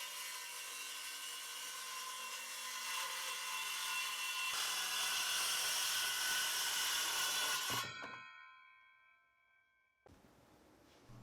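A power saw cuts laminate stair tread pieces to width, whining loudly and steadily for several seconds before cutting off and ringing down, then a quieter hum of room noise returns.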